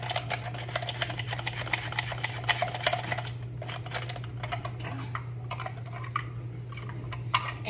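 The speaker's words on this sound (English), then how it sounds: "So I'm just gonna give that a little bit of a stir." Chicken divan being stirred in an enameled cast iron pan: rapid scraping and clinking utensil strokes, close and fairly loud, slowing into sparser scrapes toward the end, with no talk.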